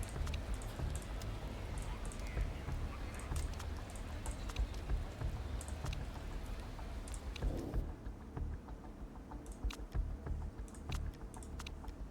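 Rain falls during an endurance race in a racing video game at Milan, a dense steady patter with scattered sharp ticks across the whole stretch. The patter thins somewhat near the end.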